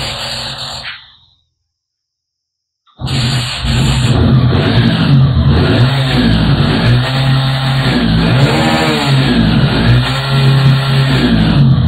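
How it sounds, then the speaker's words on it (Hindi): A Hero Splendor motorcycle with only 136 km on it after three years is kick-started. A short silence gives way to the engine catching and running loudly and close, with repeated revving swells over a steady throb. "गाड़ी को स्टार्ट करेंगे किक से"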